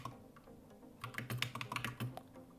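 Computer keyboard typing, a burst of quick, uneven key clicks beginning partway in after near silence, close and moderately loud with no voices.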